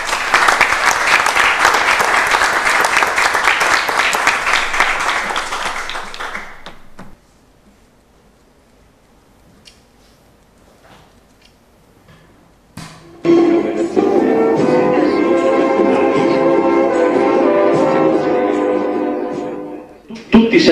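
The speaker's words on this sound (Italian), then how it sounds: "un applauso, prego." An audience at a scholarship award ceremony applauds loudly for several seconds, then near silence follows before speech over music and crowd noise picks up again.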